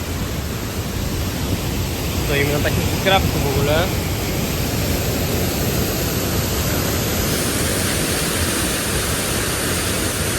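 A waterfall near Ubud, Indonesia, roars as a dense, constant rush of falling water close by, loud and unbroken, with a person speaking briefly over it.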